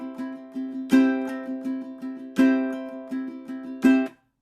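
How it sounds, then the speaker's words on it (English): Ukulele strummed quickly in a steady down-up pattern, with three loud accented down strums standing out at regular intervals above softer, evenly spaced strokes, played close and clear before stopping abruptly. "I'm going to do an accented down, followed by a down, up, down, up, down, up"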